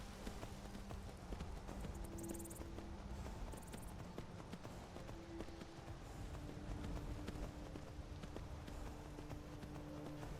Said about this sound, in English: It's a fine steed.